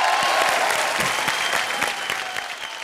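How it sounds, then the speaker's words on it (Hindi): A studio audience at a televised comedy show bursts into loud, sustained applause for the film Tamasha, the clapping slowly tapering off toward the end. "तमाशा के लिए जोरदार तालियां हो जाए।"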